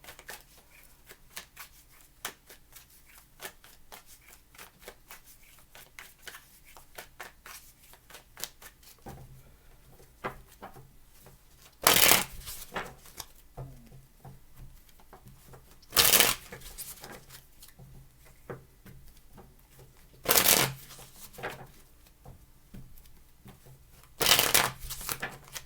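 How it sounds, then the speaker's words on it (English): Tarot cards being shuffled close up, with soft riffling and handling throughout and four louder, sharp bursts of cards snapping together at regular intervals. "Last shuffle."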